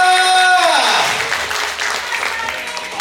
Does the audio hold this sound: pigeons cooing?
no